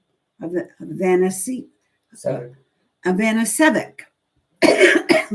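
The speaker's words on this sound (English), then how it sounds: "I might cough, and this might happen" Several short coughing bursts separated by brief silences, close and fairly loud, with a throaty, rasping quality.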